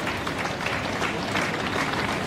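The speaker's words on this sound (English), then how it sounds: "this crowd's going to get louder as we go through the regatta" A crowd at the Henley Royal Regatta rowing race applauds steadily throughout, a dense, continuous wash of clapping at even loudness, heard from some distance along the riverside course.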